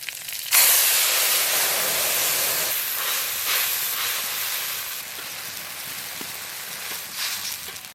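Tamarind water hits a hot pan of mustard seeds and dried and green chillies, setting off a sudden loud sizzling hiss that slowly eases into steady bubbling frying, close up, with no voices.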